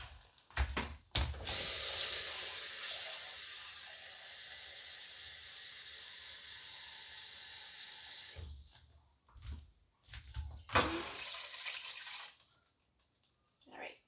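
Extra cups of water are poured into a cooking pot, a steady close splashing stream for several seconds, followed by a short second pour after brief clunks.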